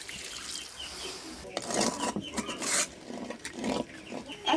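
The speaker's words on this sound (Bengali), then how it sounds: "এখন দিয়ে দিতেছি পানি" Water poured into a hot cooking pan of fried onion, chili and ginger-garlic paste for a chicken and ash gourd curry gives bursts of hissing, splashing sizzle over a steady background hiss.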